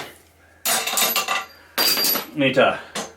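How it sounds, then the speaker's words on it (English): Hammer tapping during assembly of free-motion indoor cycling rollers, giving a few sharp metallic clinks in short bursts, close and fairly loud, with quiet gaps between strikes. "Tap with the hammer."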